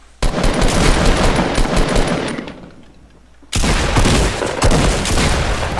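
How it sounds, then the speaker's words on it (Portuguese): Bursts of rapid automatic gunfire fill a free-to-play Epic Games shooter, loud and close, with a brief lull before another sustained volley. "ele me deu um tiro já na cara"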